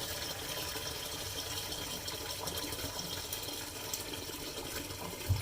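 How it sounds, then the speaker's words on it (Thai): Water pours steadily into a container to make a salt brine for soaking mackerel before steaming, a broad continuous gushing and splashing that stays fairly even and alone throughout. "ใส่น้ำลงไปคราวนี้เราจะทำน้ำแช่ปลานะคะ"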